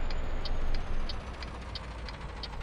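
A Kamaz 5460 truck engine in Euro Truck Simulator 2, hauling about 24 tons, rumbles loudly and steadily up close, with a faint regular clicking ticking over the low drone.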